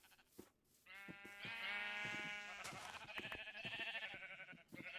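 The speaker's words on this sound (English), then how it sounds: "Just gotta get these sheep into place, then get a whole bunch of shears for them." Sheep in a video game give a long, wavering bleat with a second bleat overlapping, close and clear over soft clicking and shuffling.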